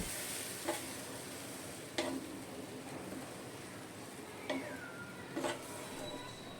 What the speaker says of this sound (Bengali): এবার আমি এর মধ্যে দিয়ে দেবো জল। আবারও আমি খুব ভালো করে নেড়ে দেবো।